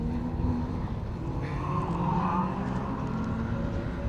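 Rallycross cars at the Blyton hairpin in a BTRDA round, engines droning steadily at middle distance with a rising note as a car accelerates out of the turn.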